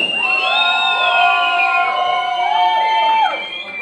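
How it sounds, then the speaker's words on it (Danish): Loud concert crowd at a show in Amager, cheering and shouting continuously with high whoops sweeping up and down, the roar dropping off near the end. "Klap særlig i huset!"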